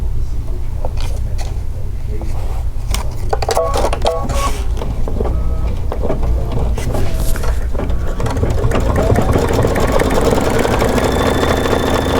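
An embroidery sewing machine runs continuously nearby, its motor hum and rapid mechanical stitching clatter holding steady throughout with no talk over it.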